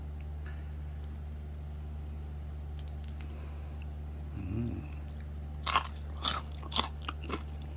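Crispy oven-roasted pork belly skin is bitten and crunched in a few sharp, close snaps, preceded by a soft chew, over a steady low hum.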